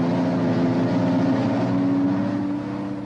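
A Renault turbocharged Formula 1 engine idles on a test run, a loud, steady droning rumble with a strong tonal hum that eases slightly near the end, no voices.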